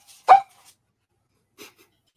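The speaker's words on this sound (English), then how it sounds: "sorry for the barking" A single sharp dog bark nearby, followed after a pause by a faint, brief second sound, otherwise quiet.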